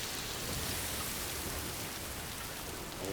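Steady rain falls in the Death Stranding 2 video game, a continuous wash of fine droplets on surfaces, moderately loud and unbroken throughout, with no voices over it.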